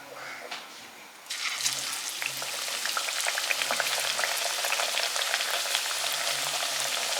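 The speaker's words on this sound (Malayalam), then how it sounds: "നമുക്കിത് എണ്ണയിലേക്ക് ഇട്ട് കൊടുക്കാം" Lentil fritters (parippu vada) dropped into hot oil, with a loud, steady crackling sizzle that bursts in partway through and keeps bubbling densely to the end, close up and alone.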